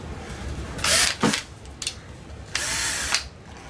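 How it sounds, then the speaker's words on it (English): A cordless drill removing screws from the grill cloth of a Marshall amp: several short, loud whirring bursts up close, separated by brief pauses. "we're just going to take the cordless drill right here"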